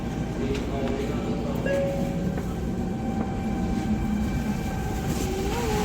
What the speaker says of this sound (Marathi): सो येस, फायनली आम्ही आमची बुलेट ट्रेनमध्ये चढलो